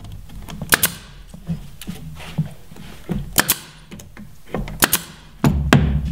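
Boards being tacked into place while building a large garage pegboard and bin cabinet, with sharp, irregular tapping hits spread across a few seconds and quiet gaps between them.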